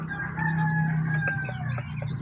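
A two-month-old stag chicken crows once in a thin, sustained, youthful call up close, with a low background hum beneath it.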